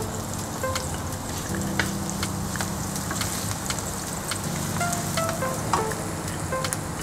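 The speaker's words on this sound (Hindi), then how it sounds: "इसके साथ मैं लहसुन डालूंगी," Garlic frying in a pan in a home kitchen, a steady close sizzle and crackle with scattered sharp pops, heard without talk.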